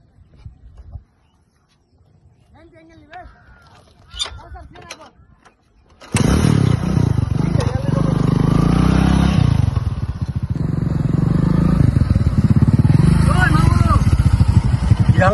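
After some quiet shuffling and a few clanks, a motorcycle engine starts abruptly and keeps running with a loud, steady idle rumble, with people talking over it.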